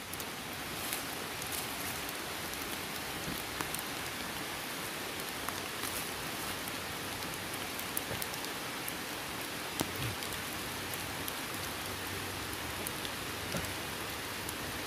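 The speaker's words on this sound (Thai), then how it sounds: "ฝนมันตกเละเละเทะเทะ" Heavy rain pours down steadily and loudly while people dig mushrooms in sticky soil, a dense, continuous hiss of drops hitting the ground with no break.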